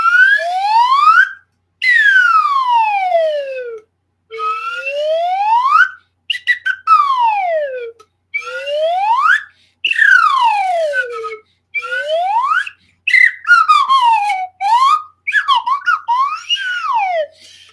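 A slide whistle plays loud, repeated swoops rising and falling in pitch, with short gaps between glides.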